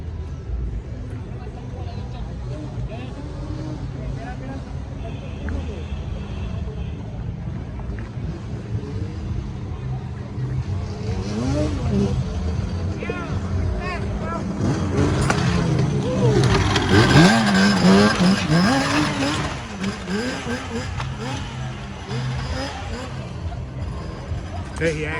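Cars passing on a Philadelphia city street during the Puerto Rican Day Parade, a steady broadband traffic rumble with wind buffeting that builds to a louder pass in the middle, under intermittent nearby voices.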